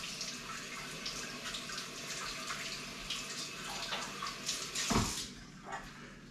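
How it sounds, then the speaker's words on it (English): Gloved hands rinsed under a running tap, with steady close water flow and splashing and a brief louder gush near the end, no talking. "I want to rinse my hands off"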